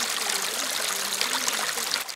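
Water rushes in a steady, continuous stream from a leak in an old main water pipe near Tylisos on Crete, running like a river; the flow is close and fairly loud, with no talking.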